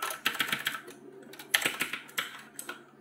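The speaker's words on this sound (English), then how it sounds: "if you type in a YouTube channel" Keystrokes on a computer keyboard as a YouTube channel handle is typed, a quick uneven run of close, crisp clicks with short pauses between bursts.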